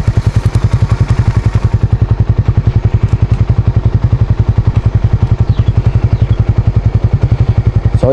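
A motorcycle engine thumps loud and close in a steady, rapid pulsing beat as the bike rides along and shifts through gears, with clattering mechanical noise throughout.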